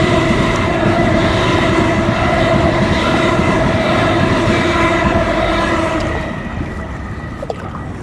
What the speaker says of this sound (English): We'll just let this train pass